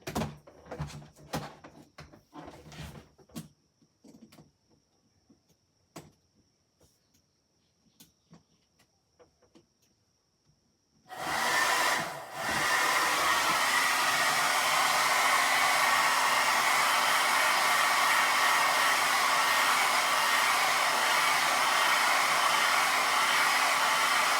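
Soft handling noises and a few taps, then a hair dryer switches on with a brief surge and keeps running as a loud, steady whooshing whir to the end, heard alone.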